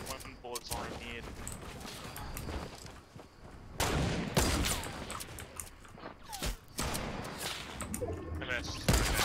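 A single sniper gunshot in Fortnite, a sharp crack among game noise and scattered impacts, with a voice talking nearby.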